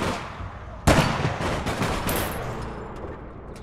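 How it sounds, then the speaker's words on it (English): Gunfire in the online game APB Reloaded, a sudden loud burst of shots followed by a dense rattle of fire that fades over a few seconds. "Hey, people shooting at me."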